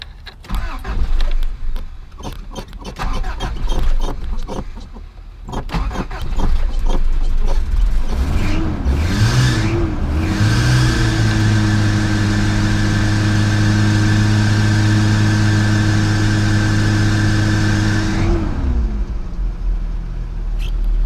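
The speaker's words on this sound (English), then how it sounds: "So let's go ahead and fire her up. This is going to be an extremely cold start on this truck." A Toyota 4Runner engine cranks and catches on an extremely cold start, then settles into a steady, rough idle that runs for several seconds before shutting off; some handling noise comes first.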